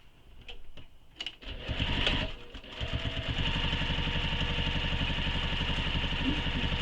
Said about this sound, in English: now we're going to top stitch this all the way across this edge here that we just folded